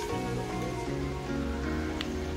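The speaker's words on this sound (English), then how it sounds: "It's now raining here." Steady rain falling at Koh Chang near White Sand Beach, a continuous even wash of droplets on surfaces with no talking.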